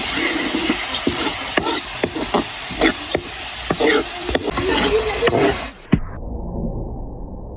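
Spice masala for chicken karahi stirred and frying in a pan at a Pakistani street food stall, steady sizzle with repeated scraping strokes of a utensil, close and loud, cutting off abruptly near the end.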